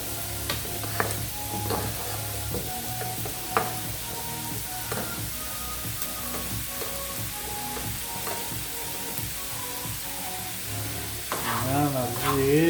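Tomatoes fry steadily in a pan for tomato paste, a constant close sizzle broken by occasional scrapes and knocks as they are stirred now and then, growing a little louder near the end.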